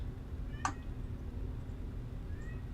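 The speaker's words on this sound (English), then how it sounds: "Kitty, I hear Dan's cats." A single short, faint meow from a cat, heard once over a low background hum, with a faint chirp later.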